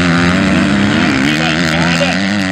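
Loud, continuous whine of motorcycle engines revving hard during a velocross race in Sete Quedas, close and steady with shifting pitch, no talking.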